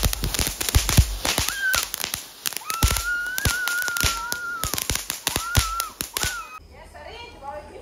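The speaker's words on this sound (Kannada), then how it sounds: "ನೋಡ್ಬೋದು ನಾವು ಇವಾಗ ಫ್ಲವರ್ ಪಾಟ್ ಹಚ್ಚಿದ್ದು, ಫ್ಲವರ್ ಪಾಟ್ ಕೂಡ ಡಮ್ ಅಂದ್ಬಿಡ್ತು." A Deepavali flower pot firecracker and other fireworks going off outdoors: rapid sharp cracks and pops with whistling streaks, fairly loud and close, with voices talking under them.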